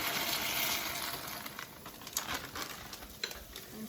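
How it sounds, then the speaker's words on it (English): Dry macaroni pours and patters into a pot of boiling water with a rushing, bubbling hiss, followed by a few scattered splashes. "it's time to put the macaroni in the boiling water"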